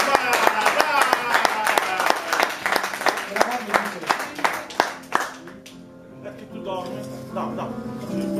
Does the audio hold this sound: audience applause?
yes